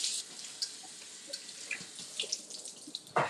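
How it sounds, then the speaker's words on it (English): Tap water runs steadily over fresh produce in a colander at a kitchen sink, a soft continuous splash broken by small clinks and patters, with a louder gush at the end. "I'm just putting them like in a little colander, and I'm just going to rinse them well"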